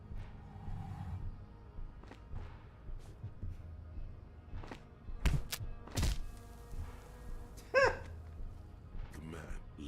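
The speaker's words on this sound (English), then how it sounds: "The man lands with a dull thump, like a broken down lump of muscles and sinew." A man falls and hits the ground with a dull thump in the video game Disco Elysium. Two heavy, low thuds land close together near the middle, over a low ambient backdrop with a voice talking.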